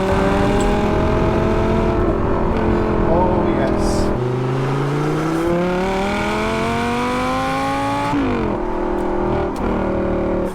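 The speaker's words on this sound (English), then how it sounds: "But just listen to that engine, it's crazy." A Lamborghini 550/2 Valentino Balboni engine revs loud and close, its pitch climbing and dropping through shifts in a continuous bellowing roar.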